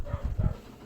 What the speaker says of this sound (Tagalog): maraming aso na tumatahol sa labas